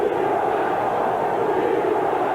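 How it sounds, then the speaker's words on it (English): A football stadium crowd roars in a steady, dense wash of massed voices, chanting for the defense late in the first half of a 1987 Jets vs. Giants game, sustained and loud with no single voice standing out. "Chant of defense from the crowd with 5 minutes to go in this first half"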